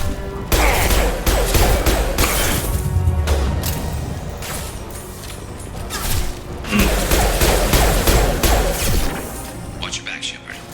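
Heavy gunfire in a Mass Effect 2 firefight: dense bursts of shots and impacts keep coming, with loud thuds and cracks, and voices call out over the noise.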